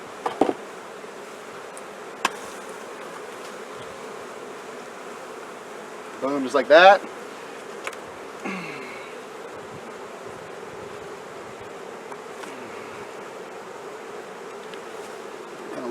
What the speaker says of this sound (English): They're starting to buzz me a little bit now